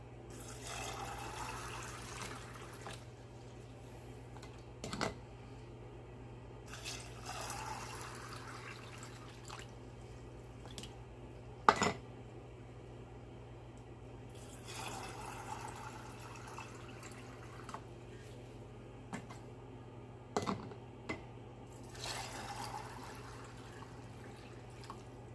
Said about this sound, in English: Now I have some room temperature water in here and in here, and I'm just going to go ahead and fill these jars